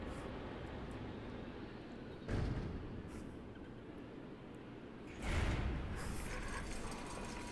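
Lever-operated machinery grinds and clanks in the game ICO, a steady low mechanical rumble with two heavier surges of movement, fairly faint and with no talk over it.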